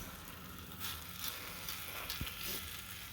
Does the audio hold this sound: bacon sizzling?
yes